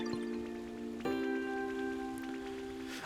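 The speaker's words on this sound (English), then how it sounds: "I forgot about the fountain. I was like, I hear rain, but it's no rain." A fountain in the Pokopia video game splashes with a soft steady patter like rainfall, under sustained game music tones that shift once partway through.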